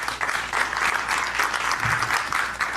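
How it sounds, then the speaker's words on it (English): Sustained applause from an audience at a property network event in Soweto, a dense steady wash of many hands clapping at close to moderate distance, with no talk over it. "Let's give another round of applause."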